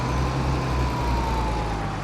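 A tractor engine in Farming Simulator 22 on a dairy farm map hums as a steady low drone, loud and unbroken throughout.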